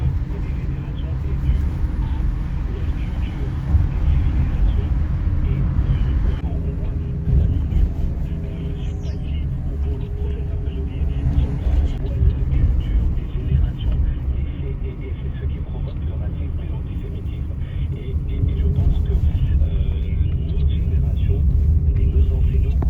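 A car drives along with a steady low rumble filling the cabin for the whole stretch, while people talk over the engine noise.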